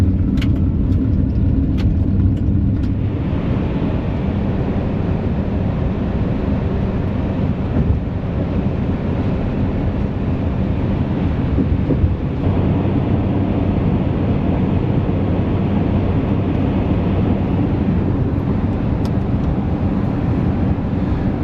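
Steady road noise from a car cruising along a highway in Minnesota in the fall, a loud continuous rumble and wind roar with no breaks, heard from inside the vehicle for the whole stretch.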